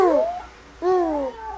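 Baby babbling in two short bursts of rising and falling vocal sounds with a brief pause between them, close and clear.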